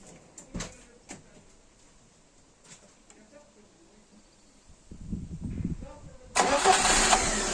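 A VAZ 2110 car engine is started during fuel pressure regulator diagnosis: after quiet clicks and handling noises, the starter cranks briefly and the engine catches into a steady, loud running sound near the end.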